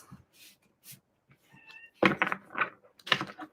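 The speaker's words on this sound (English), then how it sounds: "So I'll just do a few more shuffles." Tarot cards are shuffled in several quick, crisp papery riffles close by, after a soft cat meow and a few light taps.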